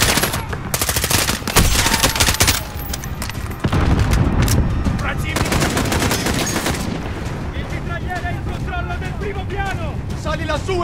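Bursts of fixed machine gun fire in the Call of Duty: Modern Warfare campaign, loud rapid rattling volleys with scattered single shots, followed by quieter battlefield noise with distant chirping.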